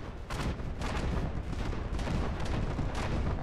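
A 1000mm APS cannon in From the Depths fires a rapid string of heavy, booming shots, each a loud, punchy blast following close on the last.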